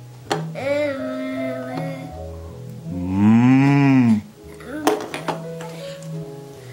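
A voice gives a long drawn-out moo imitating a cow, with an adult talking before and after and a light clink near the end.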